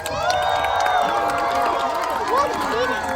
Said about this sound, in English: So I want you all cheering as loud as you can for them